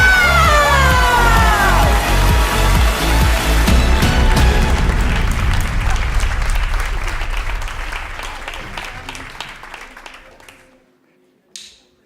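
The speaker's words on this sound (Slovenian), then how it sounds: "In še velik aplavz za zmagovalko večera!" Audience applause for the evening's winner at the Slovenska nota 2017 music final, loud and dense with some cheering and a musical outro underneath, thinning out and fading to near silence by the end.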